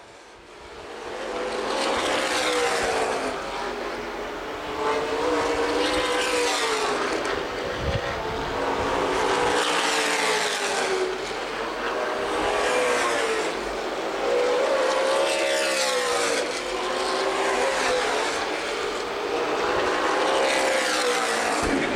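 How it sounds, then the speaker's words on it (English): CRA Late Model Sportsman stock cars racing at Winchester Speedway, a loud continuous V8 roar that swells and fades in repeated waves as the pack laps the oval, with no talk. "Jason Atkinson on the bottom sideways. Tries to catch up to the 68 of Hannah."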